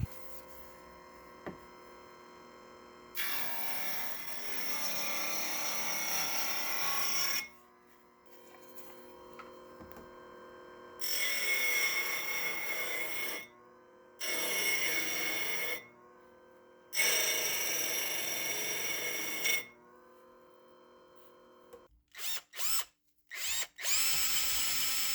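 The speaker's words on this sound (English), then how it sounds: "Go in and sand this." A power sander works over a replacement wooden shovel handle in several separate loud, close bursts of high whirring and grinding, with near-silent pauses between them and a few quick stuttering bursts at the end.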